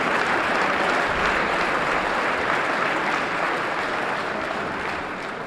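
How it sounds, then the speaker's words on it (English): An audience at a Harlem debate event breaks into sustained applause, a dense and steady wash of clapping that holds at full strength for about five seconds before easing slightly at the end. "Give her a round of applause."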